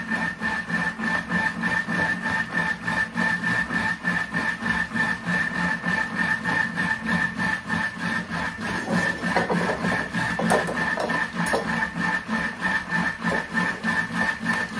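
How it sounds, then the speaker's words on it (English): Cream whipping into butter inside a Thermomix TM6, a continuous close motor whir with a rapid churning, slapping texture that stays steady throughout. "clearly the sound of that whipping the cream inside is changing"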